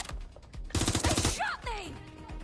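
Gunfire in the Watch Dogs Legion video game: a burst of rapid automatic shots cracks out in quick succession, framed by scattered single reports and a brief electronic swoop.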